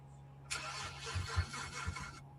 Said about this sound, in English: Sounds like someone's trying to start a car.